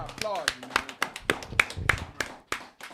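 A man clapping his hands in a steady rhythm of about a dozen sharp, close claps, with his voice talking between and over them at a religious feast gathering.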